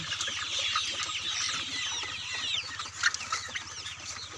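Chickens on a poultry farm raising broilers of about 900 grams cluck continuously as a dense flock. Overlapping calls come from close by, with a steady low hum underneath and no talking.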